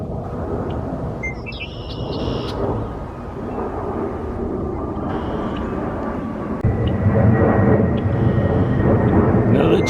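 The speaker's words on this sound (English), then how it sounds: "Another jet flying overhead." Jet aircraft passing overhead above a forest hiking trail on a spring morning, a broad rushing roar that swells louder toward the end, with faint outdoor sounds mixed in.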